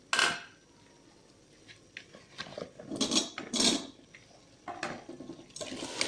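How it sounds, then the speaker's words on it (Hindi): Potatoes go into a pan of peas and onions frying for a home-cooked curry, with scattered clinks of a utensil against the pan and soft sizzling bursts, faint and intermittent. "अब इसमें हम आलू डालेंगे।"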